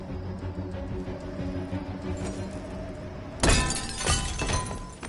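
A glass wall shatters suddenly in the game Detroit: Become Human, a loud bright crash followed by tinkling falling shards, after a steady low mechanical drone.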